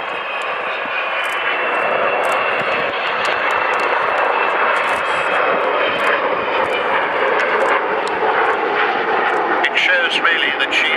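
The engines of the Avro Vulcan XH558 bomber roar loudly and continuously as it flies at the Royal International Air Tattoo airshow in 2010, a broad sustained rumble while someone talks over it.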